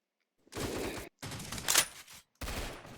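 Rapid bursts of sniper rifle fire in a first-person shooter video game, three loud cracking volleys separated by short gaps, no voices.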